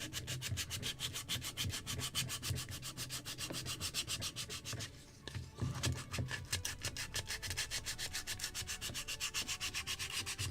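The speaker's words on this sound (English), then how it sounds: "I'm already sanding 40 minutes trying to prepare to get second layer of priming" Continuous rhythmic rasping of sandpaper rubbing primer on wooden spars for a model Muscongus Bay lobster smack kit, close and steady with a short pause midway, no talk.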